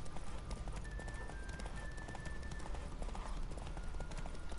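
Rapid, rhythmic hoofbeats of a galloping horse in The Witcher 3: Wild Hunt pound continuously at close range, steady and driving, with no talking.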